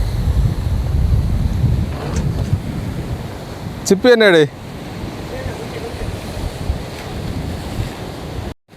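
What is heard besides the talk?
ocean waves at Colachal beach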